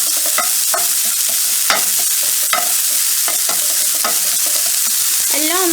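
Sugar and grated coconut stirred and roasted in a hot pan for a Kannur-style unnakaaya filling, with a steady close sizzle and repeated scraping strokes of a spoon against the pan, no talking.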